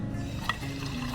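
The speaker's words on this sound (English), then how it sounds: "This fountain even has a place to fill up your bottle" Water from a campground fountain runs into a bottle, a soft, steady trickle with a small splash near the middle, close by and fairly quiet.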